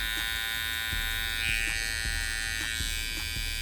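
A barber hair trimmer runs steadily with a constant high electric buzz and hum, close and loud, with faint clicks and handling taps beneath the drone.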